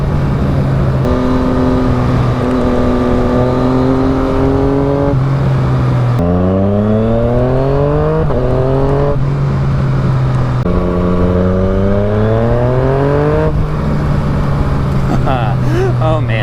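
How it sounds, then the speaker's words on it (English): A Yamaha FZ-09 motorcycle's loud exhaust echoes off nearby buildings as it rides through town, revving up through repeated gear changes with rising pitch, dipping between shifts, then settling back. "See how the FZ sounds with his exhaust echoing off the buildings."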